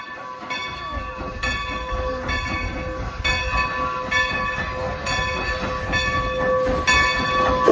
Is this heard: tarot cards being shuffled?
no